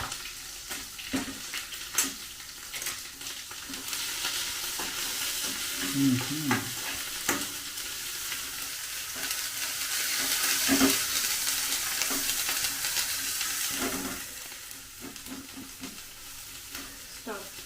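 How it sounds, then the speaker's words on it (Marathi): Ground masala sautés in oil for shev bhaji, a steady sizzle with scraping stirs and clinks of the spoon, near and continuous with brief louder bursts, no talk. "यामध्ये आपण आता थोडंसं अजून तेल ऍड करून घेतलंय कमी पडत होतं म्हणून आता चांगलं की करून घ्यायचंय परतून घ्यायचंय"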